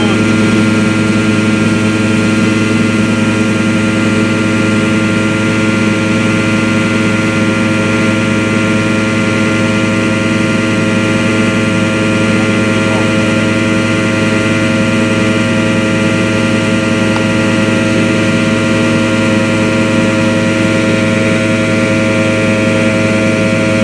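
A septic pump truck's engine runs steadily while preparing to pump out a tank, giving a loud, constant droning hum with strong tonal harmonics that holds unchanged for the whole stretch.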